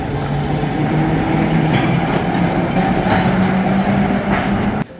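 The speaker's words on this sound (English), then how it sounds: "This metro is kind of cool and funky." Italian metro train rumbling loudly and steadily at close range, with a low running drone and rattling texture that cuts off abruptly near the end; no talk.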